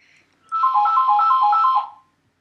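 A phone ringtone plays while a taxi company is being called from a driver tracking and dispatch app, a steady repeating electronic melody lasting about a second and a half, close and clear with no talk over it.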